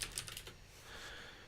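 Fast typing on a computer keyboard while searching a library manager in Arduino software, a quick flurry of clicks at the start fading into a steady background hiss.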